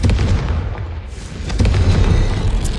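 Fiery Confringo spell blasts in the Hogwarts Legacy video game, a dense booming explosion burst that swells loud again after a brief dip, rumbling heavily in the low end with no talking.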